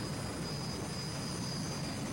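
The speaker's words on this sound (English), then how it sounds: "These jet engines are out of jet fighter planes, the T-38 trainer plane that flew over Korea." A jet-powered drag racing car runs a T-38 jet engine taken from a trainer plane, producing a steady broadband roar with a faint high whine, constant and moderately loud, with no voices.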